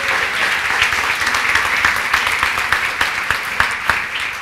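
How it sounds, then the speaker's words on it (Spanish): A church congregation claps together in sustained applause, the individual claps sharp and close, continuing evenly without a pause. "Vamos a darle un aplauso."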